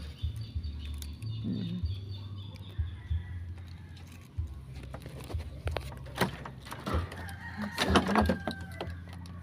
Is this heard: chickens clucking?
yes